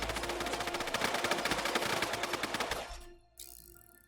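Gunfire in Fallout: London, a rapid automatic burst of dense, evenly spaced shots lasting almost three seconds, then stopping abruptly, with one last faint crack afterward.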